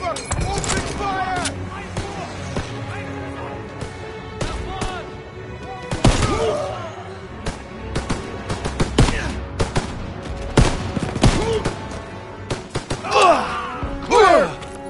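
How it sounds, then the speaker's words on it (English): Call of Duty WW2 infantry combat in an open field: scattered rifle and machine-gun shots crack near and far, with thuds of explosions. Shouting voices sound through the firefight. "Open fire!"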